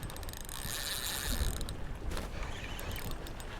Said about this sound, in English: Nice to hear the drag being slightly pulled.